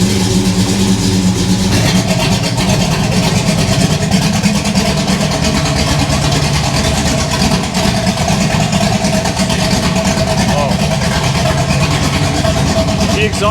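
A hot rod engine with open headers runs steadily at a fast idle, a loud continuous rumble lasting throughout, with voices talking over it.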